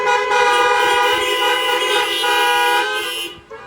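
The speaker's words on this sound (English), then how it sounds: "Honk your horns for yourself." Several car horns honk together at a church Harvest Day celebration in a sustained, loud blare, layered tones holding steady for a few seconds before cutting off near the end.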